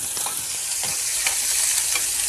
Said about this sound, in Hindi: और इस तड़के में मैंने डाला है थोड़ा सा लहसुन, प्याज और हींग, टमाटर।